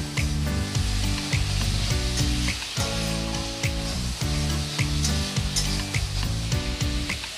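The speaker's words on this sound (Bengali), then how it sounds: "মশলাটা আমি আরেকটু ভালো করে কষে নেব" Spice paste sautéed in oil for a rohu fish roe kofta curry, a dense continuous sizzle with rhythmic scraping strokes of a spatula against the pan, loud and close.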